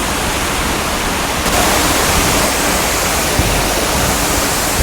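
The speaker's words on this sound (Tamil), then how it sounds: "சவுண்டு கேட்குது உங்களுக்கு தண்ணி கொட்டுற சவுண்டை" Water pours and splashes in a continuous loud rush, a steady roar of cascading water at the Chinese Garden in Singapore.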